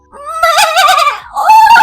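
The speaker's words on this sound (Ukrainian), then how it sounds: "коза як замекає" A goat's bleat in a Ukrainian folk tale, loud and close, a wavering drawn-out cry followed by a second rising call, with no talking.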